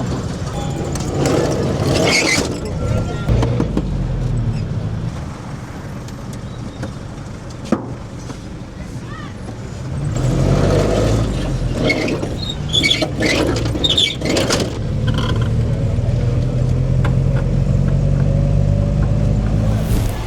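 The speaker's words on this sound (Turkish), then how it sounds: "şimdi Chapas ismindeki bu minibüslere bindik." Ride inside a crowded Chapas minibus in Mozambique, with a steady engine rumble and road noise, rattling bumps, and people talking over the ride.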